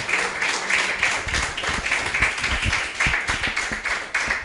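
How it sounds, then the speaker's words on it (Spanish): A church congregation at a general service applauds together, a lively, continuous patter of many hands with sharp individual claps standing out. It stays fairly close and steady throughout, with no talking over it. "¿Qué tal si les damos un aplauso a los que van a ver este video posteriormente?"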